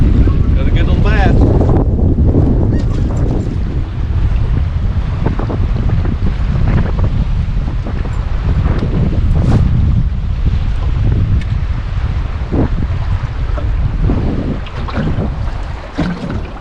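Strong wind roars and buffets the microphone on an open boat during spring bass fishing, a loud continuous rush with water slapping the hull underneath.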